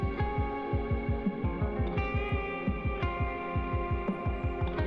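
Rapid, steady low drum thuds from a metalcore song, drenched in reverb and layered under sustained droning tones, pulsing evenly and loudly throughout with no voices.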